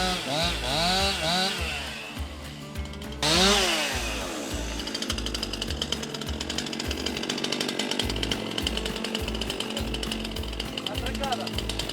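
A chainsaw runs loud and steady throughout, its engine revving up and down in repeated pulses, with brief pitch swoops early on, while work goes on clearing steep land for an agroforest.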